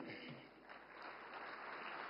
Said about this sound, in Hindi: अब ताली बजी